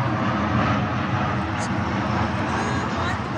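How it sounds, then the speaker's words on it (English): An airplane flies overhead, a steady broad engine drone that fills the whole moment at moderate level, with a faint brief tone near the middle. "Oh, there's a plane."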